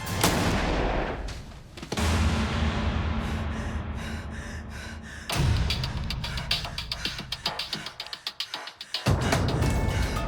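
A dramatized reenactment gunshot fired upward toward a ceiling: a sharp, loud bang punctuates tense, heavy background sound, followed by rapid clicking bursts and another abrupt impact.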